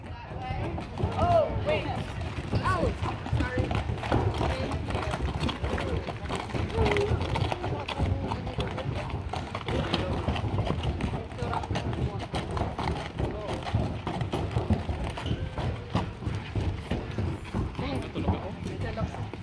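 Horses passing on a trail in Yosemite, hooves clip-clopping steadily and fairly close under a continuous wash of people talking and outdoor chatter.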